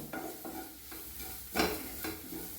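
Food stirred in a hot pan on the stove, with a soft sizzle under repeated scraping strokes of a spoon, one louder stroke near the middle, close and without talk.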